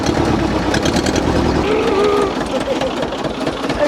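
A red farm tractor's engine runs on a countryside ride, making a steady, loud, rough mid-pitched chugging drone that holds throughout with slight fluctuations.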